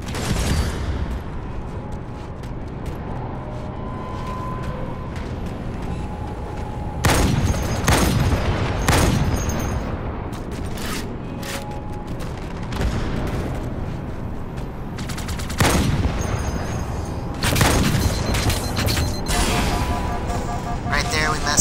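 Heavy gunfire and booming blasts from the video game Halo 2 Anniversary in Halo MCC, a steady dense roar of battle with louder bursts of shots and explosions recurring throughout.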